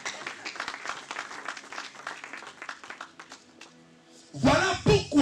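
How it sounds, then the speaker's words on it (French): A church congregation breaks into a short burst of applause and cheering at the end, right after a stretch of a preacher speaking. "Acclame bien pour encourager."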